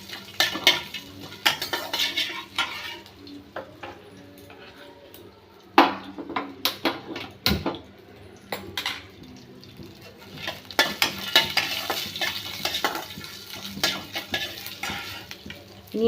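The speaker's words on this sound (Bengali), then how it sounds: "আমি ফোড়নটাকে একটু নেড়ে নেব" A spoon scrapes and clatters against a pan while whole-spice tempering fries in oil, a steady low sizzle beneath the irregular metallic stirring strokes, close and fairly loud, with no talking.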